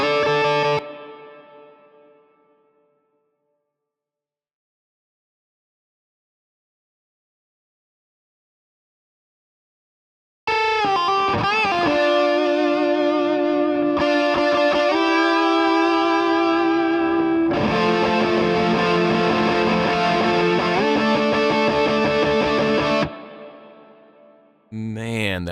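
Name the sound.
guitar with reverb, EQ and compression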